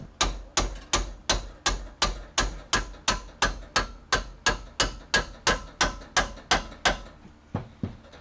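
Sledgehammer strikes land in a steady, even rhythm, about twenty loud ringing blows in a row with a short pause near the end, no talk.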